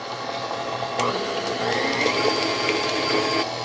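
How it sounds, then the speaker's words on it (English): An electric hand mixer beats an egg into lemon ricotta muffin batter, giving a steady close whirring drone that holds level for a few seconds with a slight rise partway through. "I now have the mixer on stir, which is very low"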